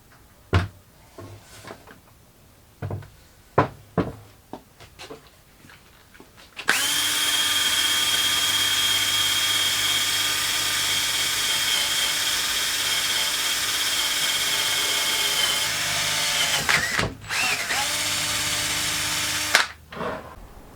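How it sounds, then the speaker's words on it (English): Electric drill spinning a wire brush cup to take loose rust off a 300Tdi exhaust manifold, a loud steady whirring grind lasting about ten seconds, after several sharp knocks and clatters of handling, then a brief restart. "I'm just going to use the drill with a wire brush cup on it."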